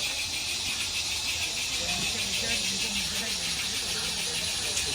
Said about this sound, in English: we're running a 28-car long train that's powered by all live steam logging locomotives